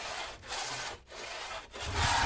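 Steady rhythmic rasping of a large two-man hand saw cutting lengthwise through wood, long back-and-forth strokes with brief pauses between them, close and fairly loud.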